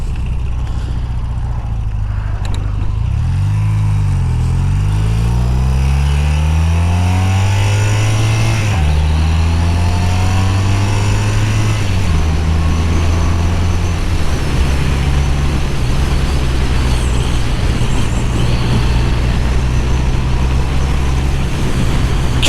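A 41-year-old BMW R100CS Airhead motorcycle engine drones loud and close while being ridden, rising and falling through several gear changes over steady wind rush.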